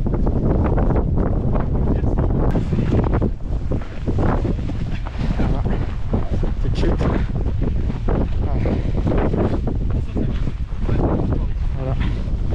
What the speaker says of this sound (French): Donc là il fait très froid, il y a du vent.